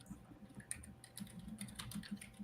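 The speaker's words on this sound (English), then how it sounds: "oh, I'm typing" Computer keyboard typing, a quiet, irregular run of light key clicks close to the microphone with no talk over it.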